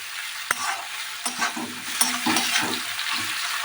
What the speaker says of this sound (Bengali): টমেটো কুচিটা দিয়ে বন্ধুরা ভালো করে কষতে হবে